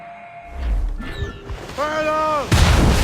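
Assassin's Creed Rogue naval combat, with a deep cannon thump early on and a sharp, loud impact crash near the end, mixed with shouting crew voices.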